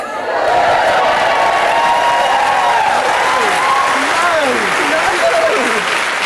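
Dense, loud applause and cheering from a studio audience at a timed quiz-style competition fill the whole stretch, with voices shouting and whooping above the steady clapping.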